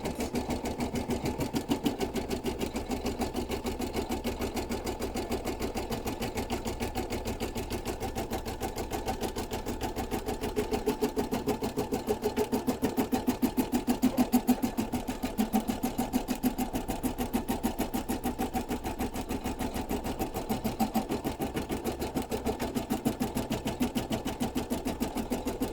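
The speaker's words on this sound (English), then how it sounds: "I've got the machine slowed down because sometimes the fabric can be a little bit hard to work with" An embroidery machine stitches a gnome hat at half speed, its motor humming steadily with a fast, even needle rhythm for the whole stretch, close and unchanging, with no voices.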